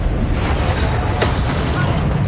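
A Confringo blasting spell detonating in Hogwarts Legacy, a loud, dense booming burst with a sharp crack midway, short and close.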